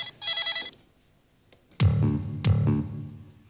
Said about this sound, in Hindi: किडनैपर का फोन आया